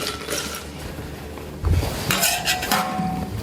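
Cocktail made with Mexican Coke being stirred, close clinking of a spoon and metal against glass, with a louder rattling burst midway.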